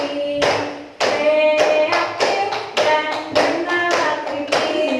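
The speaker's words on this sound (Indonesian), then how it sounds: "Ya, tepuk tangan." Audience clapping hands at a school teachers' presentation, a steady patter of many hands with a few louder bursts, fairly close and continuous, with no talk.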